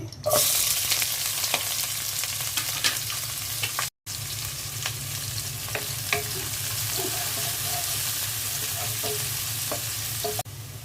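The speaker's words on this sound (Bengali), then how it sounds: "পাতিলায় তেল দিয়ে দিয়েছি পেঁয়াজ আর রসুন দিয়ে দিচ্ছি" Onion and garlic fry in oil in a cooking pot, giving a continuous close sizzle punctuated by light stirring clinks. A brief silent gap interrupts the frying noise partway through.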